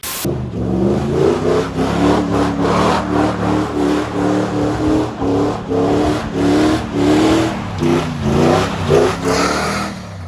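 The V8 engine of a Toyota 4Runner prerunner revs repeatedly in quick, punchy bursts, loud and close, its pitch rising and falling in a steady pulsing rhythm.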